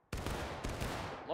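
A company volley of muskets goes off in the Civil War game War of Rights, one sharp burst followed by a ragged second crack of near shots with a rolling tail.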